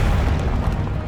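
A Confringo fire-blast spell explodes in Hogwarts Legacy, a loud, dense low boom rolling steadily through the whole short moment with crackling texture above.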